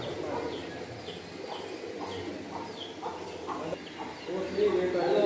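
Pigeons at a racing competition for purebred birds in Sargodha, soft repeated coos coming in close, regular phrases over a busy outdoor background with faint voices.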